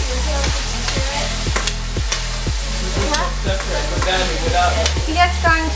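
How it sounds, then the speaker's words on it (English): Vegetables for a chicken stir fry sizzle hard in a hot pan, with a loud continuous fry and sharp, regular tossing and scraping strikes roughly every half second, close and busy throughout. "You're just going to make your vegetables get caramelized. Just fry it up a little bit."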